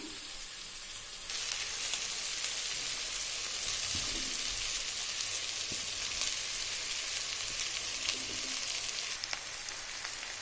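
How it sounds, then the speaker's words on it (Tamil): Cooked rice with carrots and beans fries in a pan, with a constant close sizzle that jumps louder after the first second. Occasional soft knocks come from stirring. "இப்படி நல்லா கிண்டி விடுங்க"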